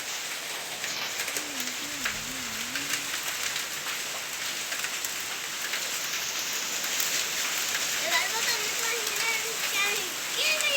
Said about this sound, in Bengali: বৃষ্টির বদলে খালি শিল পড়তেছে।